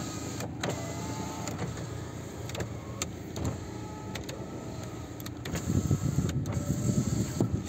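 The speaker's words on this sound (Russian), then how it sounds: "У нас все электрические стеклоподъемники." Electric power windows of a Daewoo Matiz running in repeated short whirring strokes, with motor starts and stops heard close up against a steady background hum; no talking.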